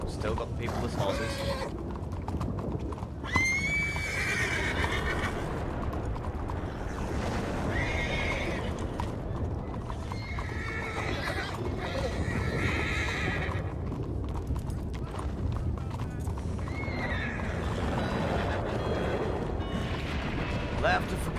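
Horses whinny and hooves clip-clop in a Wild West roleplay video game, with people talking over the repeated neighs and the hoofbeats steady underneath.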